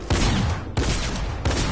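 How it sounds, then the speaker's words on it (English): Shotgun blasts in Fortnite Zone Wars, desert map: three loud, booming shots about two-thirds of a second apart, each with a sharp attack and a broad rumbling tail, no talk over them. "Why are you shooting with a shotgun?"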